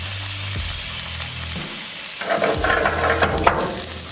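Butter with Italian seasoning and Blanton's bourbon sizzling on a Blackstone griddle, a steady close frying hiss that swells louder toward the end, with no talking.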